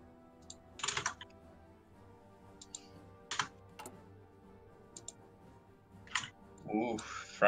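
Bursts of loud, clattering computer keyboard typing during a Hearts of Iron IV multiplayer game session, several separate quick flurries of keystrokes close to the microphone with quiet gaps between them.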